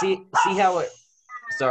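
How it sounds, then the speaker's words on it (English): A small Morkie, a Maltese and Yorkshire terrier mix, gives a few short, close barks and whimpers while a person talks in between. "that was my dog"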